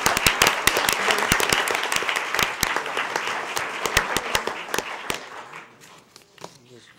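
Sustained, dense applause fills a school board meeting room, loud and close with sharp individual claps throughout. It thins out and fades over the last second or two.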